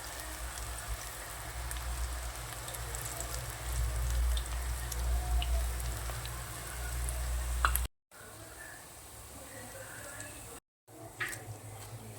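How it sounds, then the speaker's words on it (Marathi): Aloo bhaji fritters of taro-leaf batter dropped into hot oil, crackling and sizzling steadily near at hand, with the frying noise cut by two brief gaps of silence. "आता तेलामध्ये ना आपल्याला भजे सोडून घ्यायचे"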